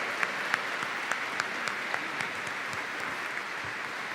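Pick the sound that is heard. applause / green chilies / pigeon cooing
applause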